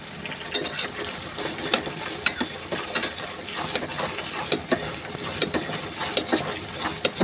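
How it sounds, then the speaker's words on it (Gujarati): A spoon stirs boiling hibiscus hair oil in a pot, giving irregular scraping and clinking strokes over a soft bubbling sizzle, close and alone. "એના દરમિયાન આપણે આવી રીતે એને બરાબર મિક્સ કરતા રહીશું।"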